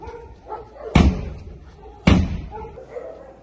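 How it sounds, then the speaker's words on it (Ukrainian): A door slams shut twice during a police raid in Odesa region, two loud, close impacts about a second apart over a busy room with faint voices in the background. "Зачиняємо двері."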